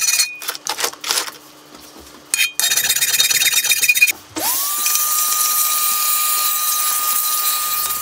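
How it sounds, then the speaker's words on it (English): Power tool grinding burrs off a cast bench drill part, with intermittent bursts of buzzing and rattling, then a steady sustained whine from the tool running continuously, loud and close. "next thing I'm going to do is take back some of the burrs from the casting"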